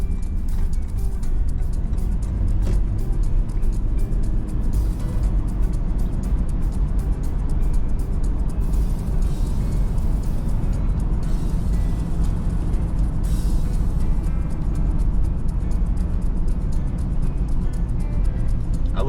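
Car driving along 12th Street in Little Rock, Arkansas, heard from inside: a steady, loud low engine and road rumble with tire noise, and brief swells where other traffic passes.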